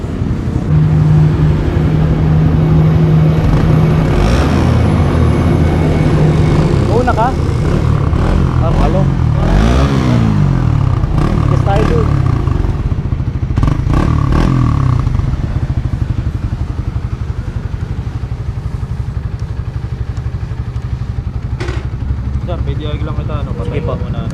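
A brand new 2024 Suzuki Raider 150 FI motorcycle engine runs loudly and steadily throughout, with rising revs and mechanical clatter, while people talk over it.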